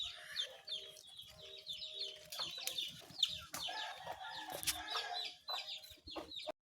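A crowd of pet chicks chirps and peeps constantly at close range while they are handled and marked on the leg, their high calls overlapping with soft handling noises and no talking.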